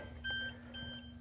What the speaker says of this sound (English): there is an alarm,